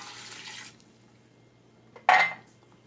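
A glass of water poured into a pot of tomatoes, red chilli, curry powder, turmeric and salt for spinach and mutton palak gosht, with a soft early trickle and then a short, loud splash near the end.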